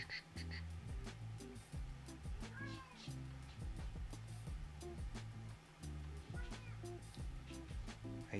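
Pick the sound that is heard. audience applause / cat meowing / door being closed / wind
cat meowing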